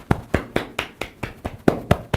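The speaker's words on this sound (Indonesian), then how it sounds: "Anda tepukinnya. Jadi pakai tangan begini" Rapid open-handed pats on the body as a self-massage, about ten evenly spaced slaps in quick, steady rhythm, close and fairly loud with no talking.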